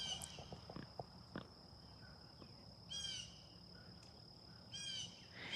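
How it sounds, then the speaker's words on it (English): Blue jays and sparrows calling outdoors in rural Middle Tennessee, a few short chirps early on and two brief bursts of trilling song later, faint over a steady insect hum. "blue jays and sparrows"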